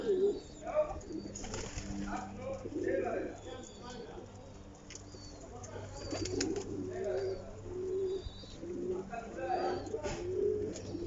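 Pigeons of various breeds kept as a hobby coo repeatedly nearby, soft low throaty calls overlapping one another, with a person talking over them.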